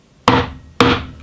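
A chisel is struck into wood while cutting around a hinge outline, giving two sharp, close thwacks about half a second apart, each fading quickly.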